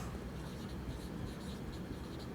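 Chalk or marker writes on a board in a continuous faint scratching and tapping, quiet and unbroken for a couple of seconds.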